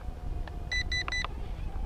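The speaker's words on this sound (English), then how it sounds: "wait for the beep." Beeps from a JJRC H32GH 5.8 GHz FPV quadcopter controller before flips: three short, bright electronic tones in quick succession over a low background hum.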